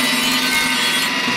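Grinder working on parts during a 386 DX 40 computer rebuild, a loud, steady high-pitched grinding hiss held for about a second and a half.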